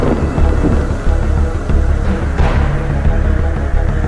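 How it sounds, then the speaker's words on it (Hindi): A strong windstorm with rumbling thunder roars in a steady, dense wash of low noise, with a louder gust or crack swelling midway and no voices. "तेज आंधी शुरू हो गई।"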